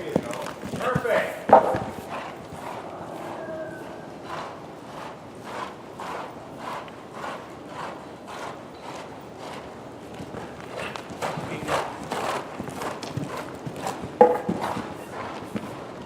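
Steady rhythmic hoofbeats of a horse moving over ground during a riding lesson, repeating evenly throughout, with a voice speaking over them at moments.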